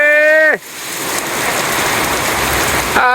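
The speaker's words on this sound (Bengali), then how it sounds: "বাইরে বৃষ্টি নামছে রে" Heavy rain pours outside in a loud, steady wash that fills the whole moment. A brief voice sounds just before it takes over and again at the very end.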